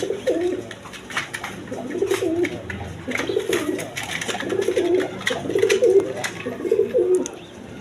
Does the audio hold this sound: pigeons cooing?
yes